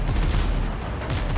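Ship cannons in a pirate video game fire in a dense, loud volley of overlapping booms and rumbling blasts, filling the whole short stretch with no voice on top.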